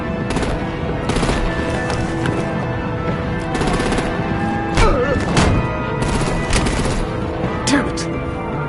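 Rapid bursts of automatic gunfire and heavy thumps rattle on almost without a break through a firefight in the Batman Telltale video game, loud and close, with voices in the mix.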